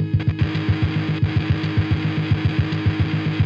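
A repeating distorted, gritty rhythmic loop from a SuONOIO bit-crushing distortion setting, with crunchy, lo-fi digital texture, steady pulses about four per second, no voices.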